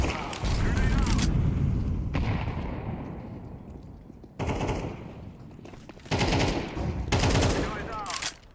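Gunfire and blasts in a combat video game, with loud rapid bursts of shooting and booming explosions that come in heavy waves, including a grenade detonation, dense and close throughout.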